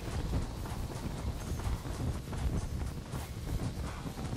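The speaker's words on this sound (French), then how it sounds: "C'est un cheval." Horse hooves clip-clop steadily in the Red Dead video game, a continuous rhythmic trot heard up close over wind-like background noise, with no talking.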